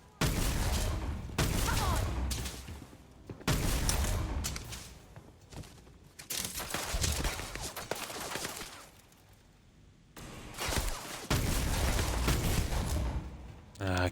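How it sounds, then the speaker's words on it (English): Gunfight in the video game Starfield, with bursts of rapid gunfire and shots in clusters broken by short gaps, fairly loud, with someone talking over parts of it. "let them shoot it out down there."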